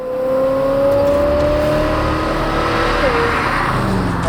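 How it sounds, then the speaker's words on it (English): A 1978 Corvette fitted with a Gen 3 LS 6-liter V8 drones loudly and close, its engine note holding steady and shifting slightly in pitch as it runs. "This is a Gen 3 LS 6-liter V8."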